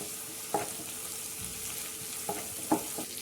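Ginger garlic paste sizzles in a pan with a soft, steady frying hiss, broken by a few light clinks and scrapes of stirring, with no talking.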